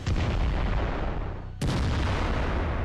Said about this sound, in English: There's a lot of explosives inside, which detonate one by one.